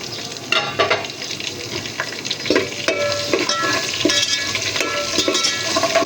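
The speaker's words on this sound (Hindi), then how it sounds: "लहसुन अदरक हमारा भून गया है" Garlic and ginger frying in a pan for a village-style potato rice dish, a steady close sizzle broken by scraping and stirring clatters, with no voice.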